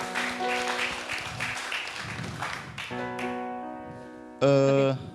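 Applause from a live talk show audience, a broad wash of clapping for several seconds with voices over it, ending in a louder, sustained tonal burst of stage sound.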